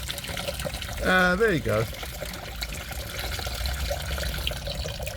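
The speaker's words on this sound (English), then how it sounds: "That's from the radiator, from the cooling system. That's the antifreeze, and water we'll have to put back." Antifreeze and water draining from a Ford KA MK1 radiator into a bucket make a soft, steady trickle at low level, under a man's brief remark.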